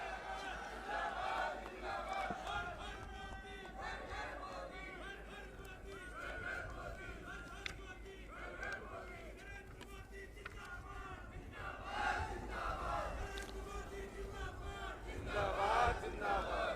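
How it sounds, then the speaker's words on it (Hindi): A large crowd cheering for Narendra Modi at a public event in Kedarnath, with distant massed shouting and rising chants that swell louder toward the end, faint and diffuse rather than close. "एक बार जोरदार तालियां नरेंद्र मोदी जी के लिए।"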